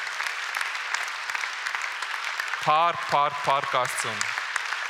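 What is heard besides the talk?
church congregation applauding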